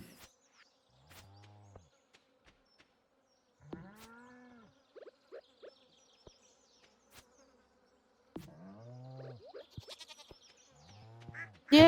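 Goat bleats from a Stardew Valley farm, a few short game-style bleats spread out among buzzing insect-like tones and sparse clicks, fairly faint with long quiet gaps and no talk.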